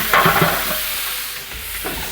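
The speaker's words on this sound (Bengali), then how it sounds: "মাংস কষানোর পালা চলতেছে" Meat being stir-fried (kosha) in a pot over a village cooking fire, a steady close sizzle with stirring scrapes and hiss.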